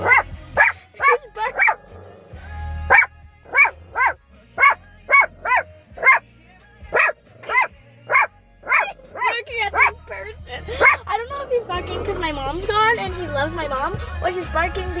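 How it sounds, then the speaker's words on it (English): A dog at a barn barks over and over at a person in a steady, insistent rhythm close by, then the barking gives way to whining and people talking. "We're at a barn, and he's barking at someone."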